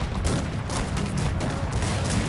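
Gunfire and artillery in a Cossacks 3 battle make a dense, loud stream of crackling musket volleys and rumbling booms that continues without a break.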